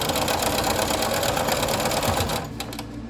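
A sewing machine chain stitches paper quilt pieces in one continuous run, a fast, even mechanical chatter close by that eases off near the end, with no talking.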